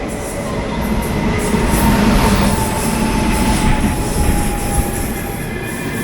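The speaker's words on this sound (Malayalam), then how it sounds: "ഈ റോഡ് ഡീസൽ ഷെഡിൻ്റെ തൃശ്ശൂർ ഷൊർണൂർ പാസഞ്ചറാണ്." Diesel-hauled Thrissur–Shoranur passenger train passing close by, a loud continuous rumble of wagons with faint wheel squeal and rhythmic clatter on the rails, with no voices.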